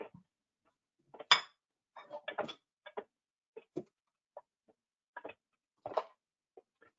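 A small rice cooker being handled, opened and checked: sparse light clinks, taps and clatters of lid and pot, close and quiet, separated by short silences.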